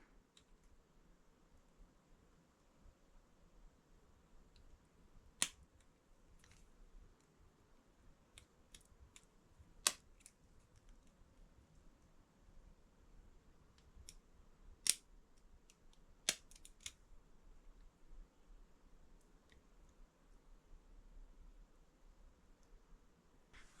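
Small snips cut through the wire gauze of a 1928 Velocette KNS motorcycle oil tank in a quiet workshop, giving a few sharp, isolated metallic clicks spaced seconds apart over faint background noise.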